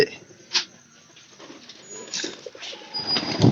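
Soft pigeon coos rise and fall under a busy background of rustling, shuffling and faint voices, fairly close by.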